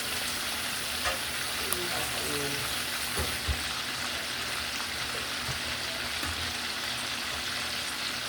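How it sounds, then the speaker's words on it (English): Steady crackling sizzle of food frying in a pan, constant and close, with a few faint clinks and knocks over the hiss. "So while that's frying"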